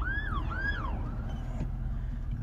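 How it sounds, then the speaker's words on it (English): An emergency siren wails in rising and falling sweeps at moderate distance, fading after a second or so, over a low constant traffic rumble. "There's cops and ambulances, fire trucks."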